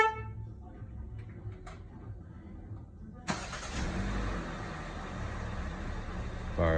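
A 2022 Kia Seltos engine cranks and fires up via remote start, a sudden broadband roar at mid-clip settling into a steady close idle after a quieter stretch, with no talking.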